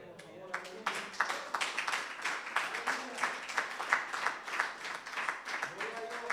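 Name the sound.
church congregation applauding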